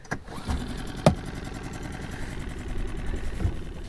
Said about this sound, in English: Right, get the engine started.